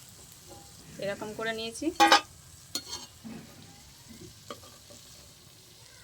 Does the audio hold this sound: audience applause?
no